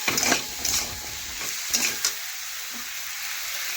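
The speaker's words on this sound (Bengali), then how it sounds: "আর সবজি একটু দেখুন এইভাবে ভেজে নেব" Vegetables fry in a pan with turmeric, chili powder and salt, giving a close sizzle broken by a few sharp scraping stirs, then a steadier hiss; nobody speaks.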